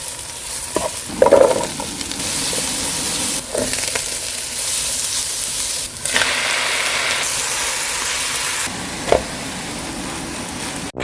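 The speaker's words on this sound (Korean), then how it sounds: "달달달 볶아 볶아 계란 후라이 얹고 아빠표 김치볶음밥 완성" Kimchi fried rice being stir-fried in a pan at home, a steady close sizzle with scraping stirs and occasional louder clatters of the utensil against the pan.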